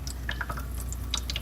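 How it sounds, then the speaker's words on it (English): Water drips and trickles from an RO/DI filter system, a series of small, irregular wet ticks and plinks over a steady low hum, close by and fairly quiet. "the water comes out of that through the top,"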